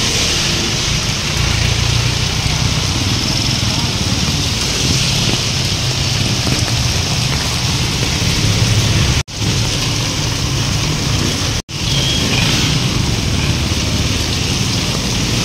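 Steady, dense heavy rain from Typhoon Crising in Sta. Mesa, Manila pours down without a break, a broad hiss that fills the whole clip, briefly cut out twice near the end.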